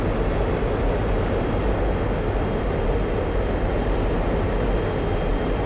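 A MiG-21 jet in flight in a flight game runs low on fuel, its engine giving a steady, loud broadband roar with a thin high whine held throughout.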